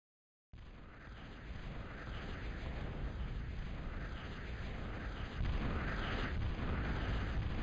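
Gas bags explode in a real-time strategy game battle: a sudden, loud burst of continuous explosive rumble and crackle that builds and holds, swelling again toward the end, with no talking.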